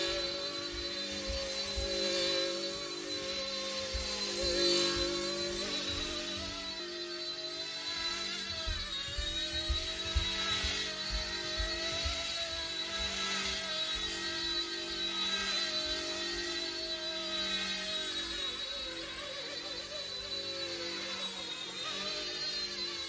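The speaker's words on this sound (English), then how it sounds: "This is a very light helicopter, so you can fly this legally" A small sub-250-gram RC ERA C184 MD 500 model helicopter hovering nearby, a steady high-pitched whine and buzzing rotor hum that holds constant for the whole stretch.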